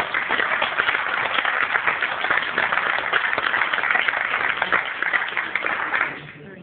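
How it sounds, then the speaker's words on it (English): Wedding guests applauding the ushers and best man, sustained dense clapping from a full room lasting about six seconds before quickly fading out. "So a big round of applause please to my ushers and best man"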